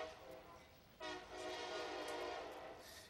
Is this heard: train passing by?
yes